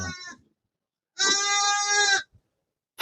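Goats in a desert setting bleat loudly and close by, one long, wavering bleat in the middle with shorter calls at the start and end, no talk.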